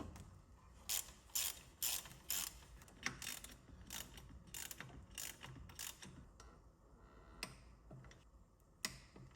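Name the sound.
ratchet tightening bracket bolts on Mustang Procharger kit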